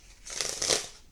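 A Sun and Moon tarot card deck being shuffled by hand, a short soft burst of riffling card flutter swelling and fading within about a second, close and alone.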